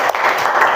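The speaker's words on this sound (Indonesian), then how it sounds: "tepuk tangan untuk Ilham." Classroom applause during a reflection session in an Indonesian school lesson, a steady dense patter of many hands clapping throughout the short burst.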